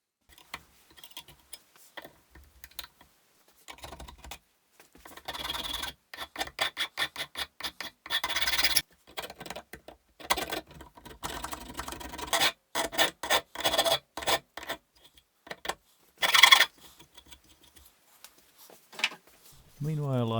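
Wooden parts of a steampunk-style night lamp are sanded by hand, producing repeated rasping strokes in short, irregular bursts separated by pauses.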